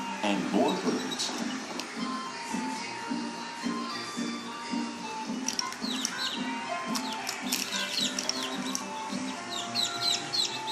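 Many small birds chirp and tweet in a steady, busy chorus, with sharp high calls growing denser in the second half over a constant low bed of other sound.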